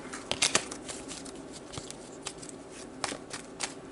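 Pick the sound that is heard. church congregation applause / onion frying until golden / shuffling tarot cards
shuffling tarot cards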